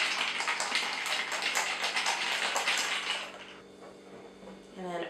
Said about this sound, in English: Put our lid on our mason jar shaker, which was one of my holiday gifts to myself,